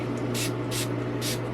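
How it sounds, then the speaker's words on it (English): Three short hissing bursts from a spray bottle spraying alcohol onto pest-infested plant leaves in a greenhouse, evenly spaced and close by, over a steady low hum. "So give them a really good spray with the alcohol."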